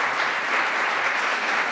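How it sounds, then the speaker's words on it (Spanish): Applause from a lecture audience at a talk on recent excavations at Teotihuacan, Mexico: a dense, steady wash of clapping hands filling the room at even loudness, with no voices over it. "para un aplauso aquí a mis amigos"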